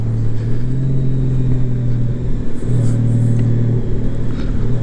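A Honda Gold Wing DCT motorcycle pulls steadily in sports mode in fifth gear, a low continuous engine drone with a slight surge and dip, close and loud over wind noise.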